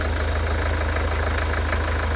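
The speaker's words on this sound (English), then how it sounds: "You notice on the decreased pressure the engine goes quieter, and you can see it's struggling now to run." A common rail diesel engine idles at low rail pressure, struggling to run, giving a close, steady low throb with a fast regular knocking pulse throughout.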